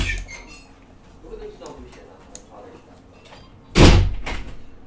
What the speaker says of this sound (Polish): zamykaj drzwi tylko